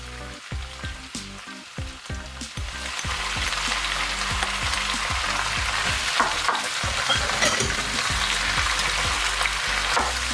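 Tomato hitting a hot pan and frying, a loud steady sizzle building after a few seconds and filling the rest, with the clack of stirring utensils throughout; no one speaks.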